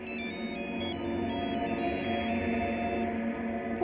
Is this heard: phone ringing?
yes